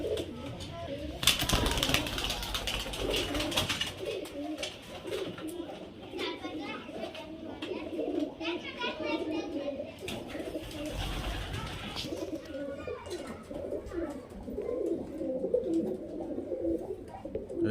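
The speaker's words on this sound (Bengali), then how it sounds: "এই যে পায়রা বেরিয়ে গেল দেখুন" Pigeons, Madrasi and Murshidabadi breeds, coo and flutter near and far while someone talks over them and children can be heard in the background, with a burst of wingbeats as birds take off.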